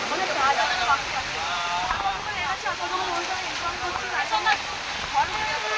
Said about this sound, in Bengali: আর প্রচণ্ড জোরে বৃষ্টি শুরু হয়ে গেছে,